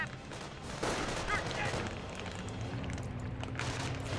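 Continuous combat gunfire and artillery barrage from the World War II strategy game Company of Heroes, a dense rumbling roar of shots and blasts that runs the whole time, with a commentator's voice faintly underneath.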